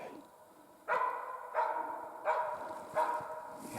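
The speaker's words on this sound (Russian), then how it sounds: "Я на лай собаки иду." A hunting dog barks steadily during a capercaillie hunt in the Komi forest, four evenly spaced barks at moderate distance over a constant background hiss.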